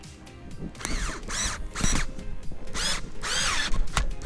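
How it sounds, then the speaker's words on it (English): A power drill drives two screws in, several short whirring bursts rising and falling in pitch with brief pauses between, close and fairly clear. "get our two screws again, and just screw them in."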